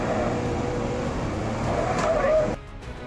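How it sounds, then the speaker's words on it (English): A Komatsu D20 bulldozer with a 44 horsepower engine roaring as its tracks grind the ground during a stuck-truck rescue, a loud, steady mechanical rumble that drops off abruptly near the end. "the Komatsu D20 Bulldozer with a 44 horsepower engine roared, each chain grinding the ground"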